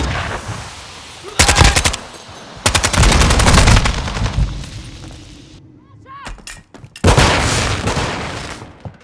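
Heavy bursts of automatic machine gun fire from the video game Call of Duty: Modern Warfare II, loud and close, coming in long rattling volleys separated by short gaps and booming impacts, with a voice calling out between bursts.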